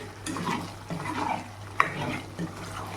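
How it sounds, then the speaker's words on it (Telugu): Chicken pickle masala frying in a pan makes a soft, close sizzle with intermittent stirring scrapes and one sharp clink of a spoon against the pan. "పచ్చివాసన పోయేంత వరకు ఫ్రై చేసుకోవాలి"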